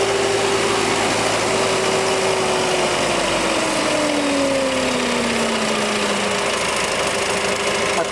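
A DXB diesel pumpset running at a quarry, Stage 5 emission compliant, gives off a loud, steady engine drone with a pitch that slowly sinks and then evens out, close by and alone, with no voices.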